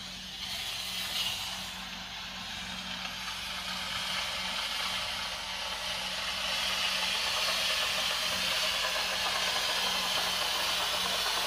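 A HomeRight SteamMachine Plus steamer with a bonnet attachment hisses steadily while steaming curtains. The steam rushes in an unbroken stream and grows slightly louder near the end, with no voices.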